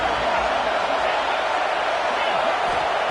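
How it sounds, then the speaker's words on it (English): A crowd roars at a football game, a dense, steady wash of stadium cheering and noise filling the whole stretch, loud and continuous, with commentators' voices mixed in underneath. "Listen to the crowd energy here in the early going."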